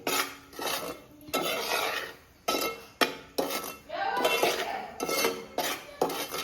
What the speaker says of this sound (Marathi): त्याच्यातच आपण बेसन ॲड करू तोही मस्त परतून घेऊ मस्त रोस्ट करून घेऊ